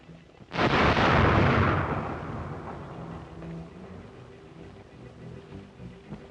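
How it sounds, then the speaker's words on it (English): A rocket is fired, giving a sudden loud blast and roar that swells for about a second, then slowly decays into a rumbling, hissing tail. "There's your rocket."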